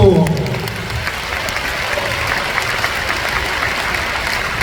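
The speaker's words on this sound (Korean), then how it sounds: "박수." Audience applause at a political gathering, a steady broad wash of clapping that rises as a voice trails off at the start, then holds evenly and fairly loud to the end.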